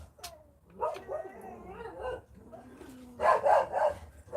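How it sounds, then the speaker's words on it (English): Two pet dogs bark and yip indoors during a Saturday morning model-kit build, with irregular bursts of close, loud barking separated by brief pauses. "The dogs found somebody to bark at."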